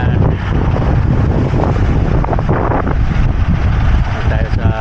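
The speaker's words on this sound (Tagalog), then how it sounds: "Mahangin na, mahalo na." Strong wind gusts across a large lake at Nipigon as winter nears, a loud, steady roar buffeting the microphone with a faint wash of water underneath.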